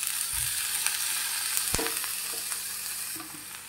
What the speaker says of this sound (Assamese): এয়া চাওক তেলটো ফুটিলে সৰিয়হৰ পৰা। এতিয়া ইয়াত আমাৰ ছজনাখিনি দি দিম।